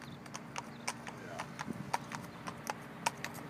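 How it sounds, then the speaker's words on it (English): A 21-year-old Hungarian horse, ridden bareback, clip-clops past on a road in Holland, its hooves landing in a steady, fairly close series of sharp knocks over quiet outdoor background. "here's a horse riding past me on my bike"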